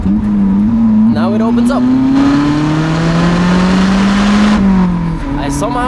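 A Lotus Elise engine drones loudly on a mountain pass road, its pitch climbing steadily under acceleration, with sharp throttle blips on downshifts. Someone talks over the engine noise.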